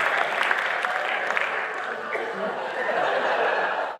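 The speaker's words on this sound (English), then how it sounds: "Round of applause for all our volunteers." An audience at a motivational talk applauds volunteers with dense, continuous clapping mixed with some laughter and chatter, holding steady for about four seconds before cutting off.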